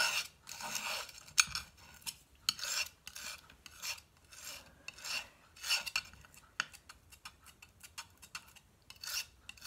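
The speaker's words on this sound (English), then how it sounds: "Try to scrape as much as you can and make sure that you don't waste anything" Homemade natural watercolor pigment is scraped in repeated short, rasping strokes, close and fairly quiet, in an irregular rhythm of bursts with brief pauses between them.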